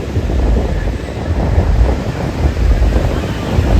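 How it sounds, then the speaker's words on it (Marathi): Ocean waves rolling onto Baga beach in Goa, a continuous loud wash of surf mixed with heavy wind rumble buffeting the microphone, with no clear breaks throughout. "काय तो पाणी काय त्या लाटा"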